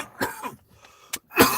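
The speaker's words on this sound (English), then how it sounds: "Sorry I was coughing so much." One person coughs several times in short, sharp bursts with brief gaps between them, ending in a louder, harsher cough, close and dry with no talk.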